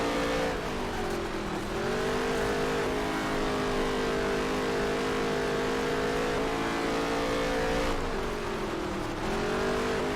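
A NASCAR video game race car engine on a dirt track drones steadily at high revs, rising and dipping in pitch as it shifts, continuous and loud throughout.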